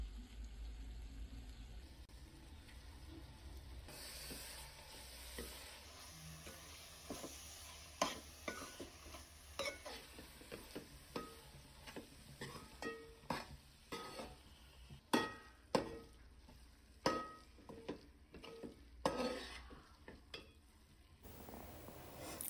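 Black masala paste for a village-style broad beans gravy cooks in oil, a faint low sizzle under repeated scraping and clinking strokes of a spoon stirring against the pot.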